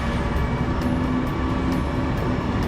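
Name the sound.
train arriving at a station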